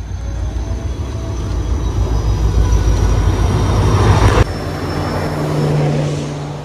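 A train pulls in with a heavy low rumble that builds, then a sudden cut to steadier hum and rolling noise, loud and close throughout; no speech.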